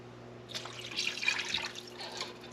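Broth poured into a tall-sided pan for a turkey dinner, a steady close splashing trickle of liquid lasting about two seconds, with no talking.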